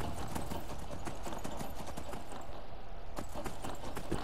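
Horse hooves clip-clopping as a horse climbs a mountain in the video game Skyrim, a steady close rhythmic beat of hoof strikes lasting throughout, with a faint soft whinny and no speech.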